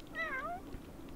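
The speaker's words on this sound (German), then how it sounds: "So geht das nicht." A single brief meow from a cat in The Sims 4 video game, a quick rising-then-falling cry heard alone and fairly quiet.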